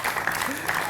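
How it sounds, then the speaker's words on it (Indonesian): Applause from an audience at a sports talk event: a brief, dense burst of clapping with a voice talking over it. "Tepuk tangan teman-teman."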